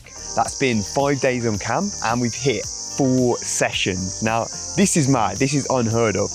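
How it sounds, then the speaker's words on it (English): Cicadas buzz loudly and continuously through a summer training camp for Japanese marathon running, a steady insect drone sitting under someone talking throughout. "you're gonna have to excuse the background noise because those cicadas are a bloody nightmare in summer"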